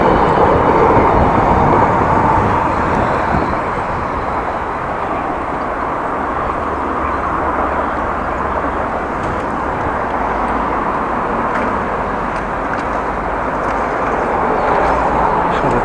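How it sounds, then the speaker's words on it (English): A train rumbles past at a bike-path level crossing in the Netherlands, a steady, loud, broadband roar that holds for the whole stretch with no clear breaks. "And there's the train."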